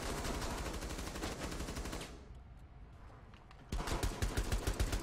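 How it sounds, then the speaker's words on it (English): Rapid bursts of automatic gunfire from the Rainbow Six Siege video game, dense and loud at first, briefly dropping to a quieter lull, then resuming with sharp, close shots. "I heard shooting."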